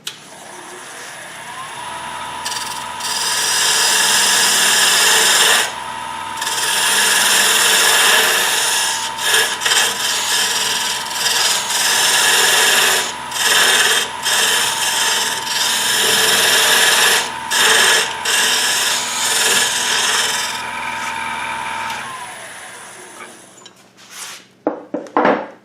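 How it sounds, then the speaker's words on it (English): Parting tool cutting into a spinning wooden spin-top blank on a wood lathe, a loud continuous scraping whine with brief pauses and surges, ending in a few sharp knocks. "I'll use the parting tool to do that."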